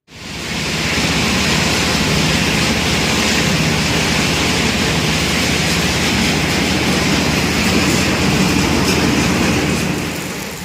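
Loud, steady mechanical roar of a stone crusher conveyor carrying crushed stone dust, running continuously, broadband and unchanging throughout, with no voices.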